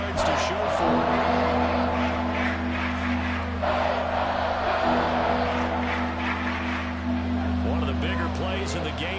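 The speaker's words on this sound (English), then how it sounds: "the crowd getting into it as we come up on a big 3rd down" A football stadium crowd roars steadily ahead of a big third down, a dense wall of cheering that carries on throughout under a commentator's voice.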